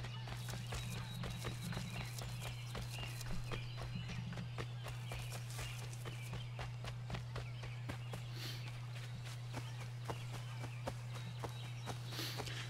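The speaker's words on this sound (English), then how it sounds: "Oh, okay, it's a horse." Horse hooves in Assassin's Creed 3 clip-clop in a steady walking rhythm over a low constant hum, evenly paced and moderately close throughout.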